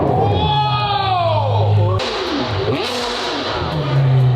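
A high-revving Ferrari sports car engine fitted with equal-length 6-to-1 race headers screams and wails nearby, with pitch sweeping up and down, amid crowd noise and some voices.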